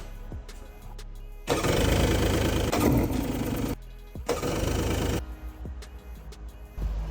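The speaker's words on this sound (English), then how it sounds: "Now we're gonna see if we can get one of the engines to turn over." The engine of a 1999 Yamaha jet boat cranks over with its spark plug removed, in two loud bursts of a few seconds each, separated by quiet clicks, without catching.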